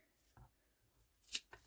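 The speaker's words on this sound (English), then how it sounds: "Let's just get my fabric scissors and just cut off the bottom." Quiet snips of scissors cutting through fabric, a few short crisp cuts close by in an otherwise hushed room.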